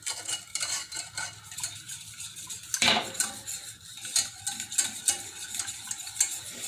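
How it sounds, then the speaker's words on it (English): A utensil stirring white pepper gravy mix in a pot on the heat, with close repeated scraping and clinking against the pan over a soft sizzle. "We're going to stir, stir, stir."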